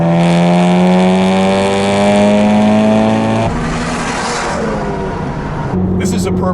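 2017 Honda Civic Type R (FK8) engine accelerating hard, a loud close rising drone climbing through the revs, then a gear change and renewed pull.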